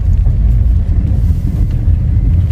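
A Datsun Go Plus car drives on after a gear shift, giving a loud, steady low engine and road rumble from inside the cabin with no talking.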